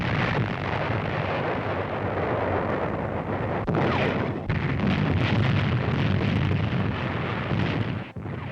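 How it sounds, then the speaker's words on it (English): Booming American artillery fire on a WWII North Africa battlefield in a 1943 newsreel, heavy continuous rumbling blasts with a noisy, distorted old-film texture and no voices. "American artillery finds targets with an accuracy that astounds the Germans"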